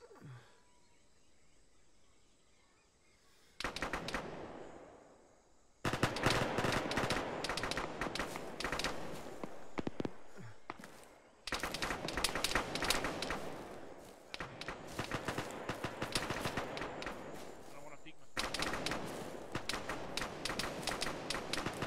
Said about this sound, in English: Yeah, that's shooting at us.